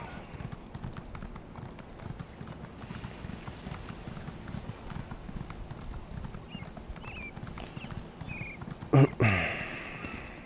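A horse in Elder Scrolls Online clip-clops with steady hooves throughout, a brisk even rhythm under a busy game backdrop with a voice talking over it, ending with a short snort or whinny.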